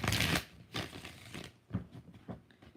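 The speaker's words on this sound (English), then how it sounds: "You know, I still got to shuffle" A deck of tarot cards is shuffled by hand during a live reading, giving several quick riffling bursts, the first longest and loudest, then shorter soft flutters spaced about half a second apart, close and quiet.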